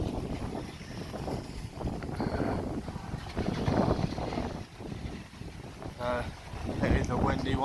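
Gusty wind buffets an outdoor microphone as someone speaks over it, a rough, uneven rumble that swells and fades throughout.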